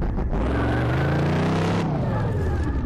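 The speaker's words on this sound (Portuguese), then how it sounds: "tentar fazer um borrachão aqui, queimar pneu" A Dodge Challenger R/T in Car Mechanic Simulator 2018 roars through a tire-burning burnout, the engine loud and steady with rising and falling revs and a squealing, hissing edge, while someone talks over it.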